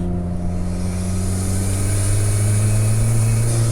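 Turbocharged sports-car engine, a Porsche 718 Cayman S or Alfa Romeo 4C, droning steadily from close inside the cabin with strong low harmonics and a faint wastegate hiss over it, loud and continuous throughout.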